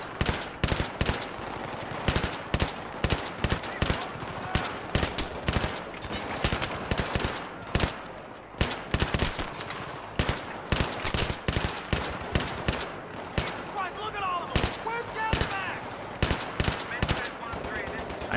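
Rapid automatic gunfire from Battlefield 3, dense bursts of machine-gun fire with scattered single shots, loud and close, running almost continuously with a voice breaking in now and then.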